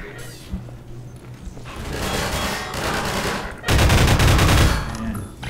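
Gunfire in Half-Life 2, bursts of rapid shots in two clusters, the second louder and denser, with faint talk in the background.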